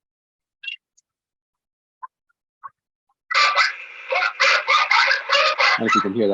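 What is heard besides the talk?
dog barking heard over sheriff's radio band via scanner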